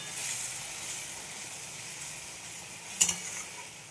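Sea tengra fish sautéing in a pan gives a steady, close sizzling hiss that runs throughout, with a brief sharper crackle near the end and no talk.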